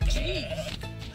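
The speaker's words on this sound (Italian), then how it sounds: "Posso belare?" A goat bleats in the video game Goat Simulator 3: one wavering bleat lasting about a second, loud and near, sitting over game sound.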